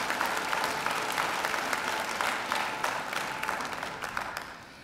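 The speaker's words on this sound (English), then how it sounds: "I'm sure you'd like to give them a great round of applause as well" Dense, sustained applause from a large audience at a university graduation ceremony, a continuous wash of many hands that tapers slightly toward the end, with no talking.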